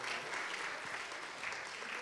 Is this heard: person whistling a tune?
no